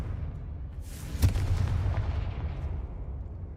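A Confringo fire spell blast in Hogwarts Legacy lands as a single booming burst about a second in, followed by a rumbling decay over low background noise.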